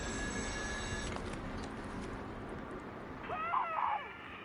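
A telephone rings inside the video game Still Wakes the Deep, a steady electronic ring that runs through most of the moment and cuts off near the end, with a brief rising voice-like tone just after.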